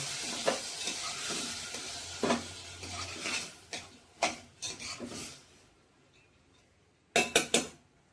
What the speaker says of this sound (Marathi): आपण हे डाळिंब्या अशी चांगल्या परतून घेऊया